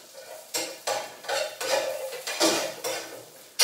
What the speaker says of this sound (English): so I'm just heating up the garlic there.